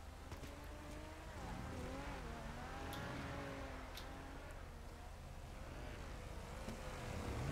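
A car is driven in Grand Theft Auto V: its engine hums faintly and steadily, with tones that rise and fall as it speeds up and eases off.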